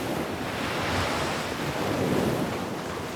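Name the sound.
thundering ocean waves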